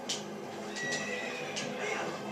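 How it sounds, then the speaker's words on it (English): A horse in the video game Zelda: Twilight Princess refuses to move, letting out a close, clear whinny with a couple of shorter snorting bursts over a steady game background. "this is no time for our horse to be having refusals"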